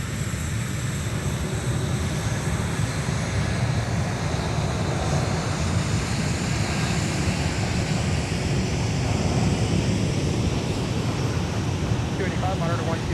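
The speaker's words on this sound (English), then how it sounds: "Delta 163 Heavy now arriving from Amsterdam with the A330-300" A Delta Airbus A330-300 arrives at MSP airport with a steady, loud, broadband jet roar and rushing wind noise that holds throughout.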